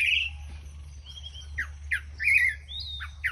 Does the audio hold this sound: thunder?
no